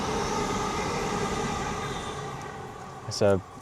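A steady, broad rumble of a train rolling past nearby in the British countryside, continuous throughout, with a brief sharper tonal burst near the end.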